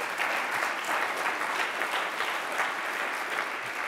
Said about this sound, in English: We can give her another round of applause.